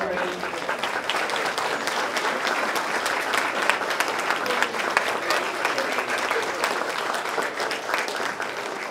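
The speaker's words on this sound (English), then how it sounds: "you guys can look around the room and see the many faces and give them a round of applause" A room full of students and guests applauds role models at an annual role-model breakfast, steady dense clapping sustained at full strength throughout without letup.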